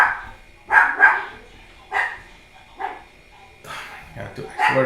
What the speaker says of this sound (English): this dog barks at everyone